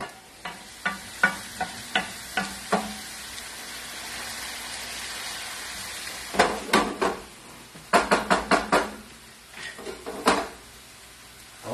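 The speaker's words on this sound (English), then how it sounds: "we give a nice turn now for the pasta" A spoon turning pasta and chickpeas in red sauce inside a cooking pot gives a run of sharp scraping and knocking strokes, first in a quick regular series, then in bursts, close by and fairly loud over a faint simmer.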